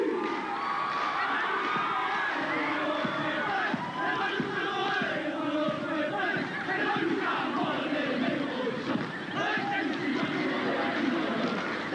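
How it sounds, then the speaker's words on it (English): A huge stadium crowd roars and cheers steadily throughout a rugby league match, a dense, loud wall of shouting voices with no pauses. "Plenty of support from the huge crowd here."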